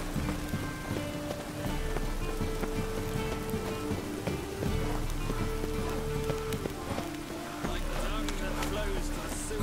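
Steady rain falls in The Witcher 3 game, a constant patter on surfaces under a low ambient drone, with someone talking over it throughout.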